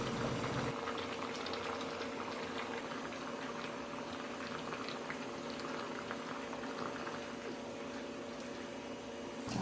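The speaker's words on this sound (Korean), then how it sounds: "물이 끓으면." Water boils in a pot before glass noodles go in for royal japchae, a steady close bubbling and rolling hiss that continues evenly throughout with no talk.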